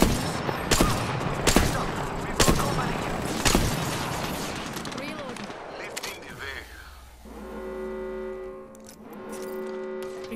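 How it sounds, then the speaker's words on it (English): Sharp, separate gunshots ring out in an Apex Legends match, several loud cracks at uneven intervals, then quieter game sounds and a sustained tonal effect trail off, with a voice briefly heard. "Taking fire!"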